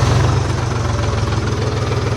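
A farm tractor runs at a steady idle after struggling to start, its engine giving a loud, constant, low rumbling throb with a rhythmic knock close by, and nobody talks.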